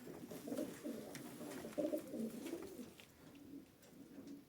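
Pigeons in a coop coo steadily in a low murmur, with several birds overlapping close by and a few sharper rustles scattered through.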